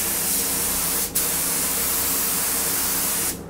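A spray gun sprays thinned material in a steady, loud broadband hiss that runs almost the whole time, with brief dips near the start and end.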